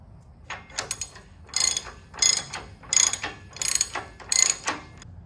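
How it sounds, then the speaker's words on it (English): A half-inch ratchet with an axle nut socket turns a nut during a Lexus GX470 rear bumper installation, giving five or six close bursts of rapid pawl clicking separated by short pauses, with no talking. "regular 1/2 inch ratchet."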